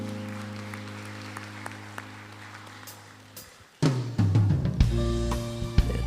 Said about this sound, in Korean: 주님께 감사와 찬양과 영광의 박수를 드리겠습니다.